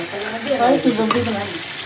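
Fish bhuna being stirred in a hot pan, a steady close sizzle and crackle of frying with scraping stir strokes running throughout, no voices.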